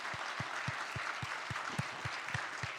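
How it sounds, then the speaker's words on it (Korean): A church congregation claps in unison during a Sunday worship service, about ten steady, evenly spaced claps over a broad crowd wash, fairly loud and close with no talking. "하나님께 영광의 박수 올려드리겠습니다."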